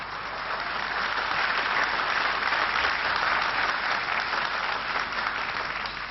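Sustained applause in the UN assembly hall during a Netanyahu speech, a dense, even roar of many hands clapping at once, heard through a muffled, band-limited recording.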